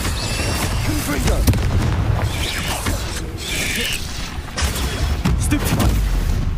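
A Confringo fire-blast spell from the video game Hogwarts Legacy erupts among repeated magical bursts and booms in a dense, loud battle mix, with a spider-infested town setting and crackling impacts throughout.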